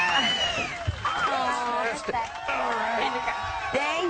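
A crowd cheers a birthday guest with loud whoops, shouts and overlapping excited voices in a dense, continuous roar that rises and falls.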